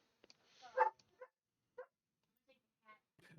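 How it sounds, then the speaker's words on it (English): A dog barks in short, faint bursts from somewhere off to the side, several separate barks spaced out over a few seconds with quiet gaps between them. "sorry if you hear a dog barking"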